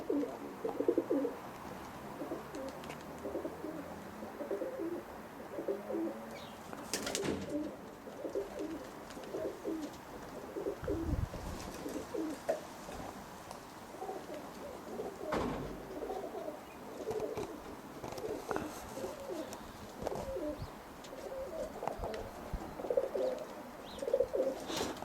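Roller pigeons coo softly in their boxes in a loft. The low, overlapping murmur carries on throughout, faint and close, with occasional knocks and rustles.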